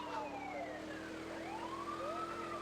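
Police siren on the special agent car in the GTA 2 video game, a steady wailing tone with rising and falling sweeps that rings continuously and loudly over engine drone across the whole stretch.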